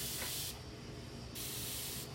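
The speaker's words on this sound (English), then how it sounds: "I'm spraying some water on all of my chalk, and that's how we're going to make water paste" A spray bottle mists water onto sidewalk chalk in two long hissing bursts, close and steady, with a short pause between them and no talking.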